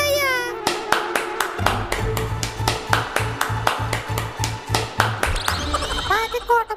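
Hands clap in a sharp, evenly spaced series of about fifteen claps over a steady musical backing, with brief electronic pings at the start and end.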